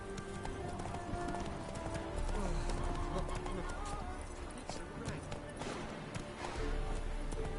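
Hooves of a galloping horse clatter in the video game The Witcher III, a fast continuous clip-clop under game sounds with someone speaking briefly over it.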